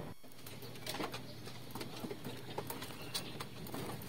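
Pigeons come down to land, giving soft intermittent coos and wing flutters among scattered clicks and taps, fairly faint and close by.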